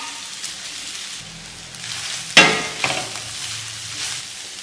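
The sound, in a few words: shredded chicken stirred into frying onion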